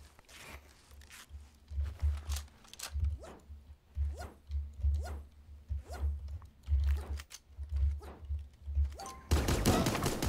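Sharp gunshots from a sniper rifle in a video game, fired repeatedly at uneven intervals over low rumble, with a louder burst of noise at the end.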